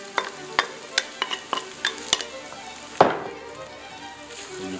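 Eggs and vegetables are stir-fried in a pan, with a run of sharp utensil scrapes and clacks in quick succession, then one heavier clatter as the other ingredients go back in, followed by a steady sizzle.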